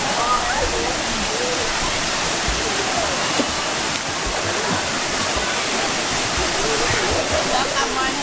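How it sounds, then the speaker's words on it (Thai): A hot spring waterfall in Krabi pours in a constant, loud, close rush of falling water that fills the whole stretch, with faint voices under the roar. "น้ำตกร้อนนะคะ"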